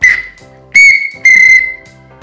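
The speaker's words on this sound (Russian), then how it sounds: "Ну, очень громкий свист" A clay pottery whistle is blown in three sharp, piercing bursts, the first short and the next two longer, loud and close with brief pauses between.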